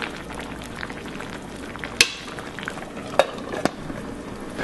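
Canned saury sizzles gently in a pan over low heat, a steady soft frying hiss broken by a few sharp utensil clinks against the pan.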